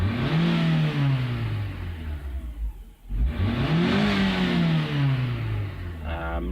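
A 2002 Nissan X-Trail with a low-power fault revs at wide open throttle, engine pitch climbing in two long sweeps, dropping off sharply around the middle, then rising and falling again, loud and close.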